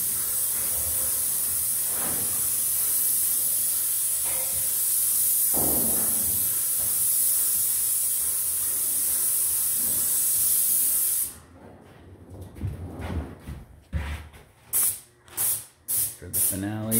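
A loud, continuous paint spray gun hiss runs steadily for several seconds, then breaks into short bursts with pauses between them, spraying over Bondo body filler.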